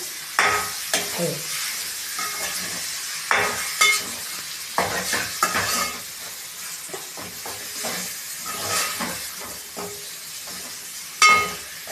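Chicken curry being stirred in a pan, with repeated close scraping and clanking spoon strokes over a soft continuous sizzle, at an uneven rhythm and without talking.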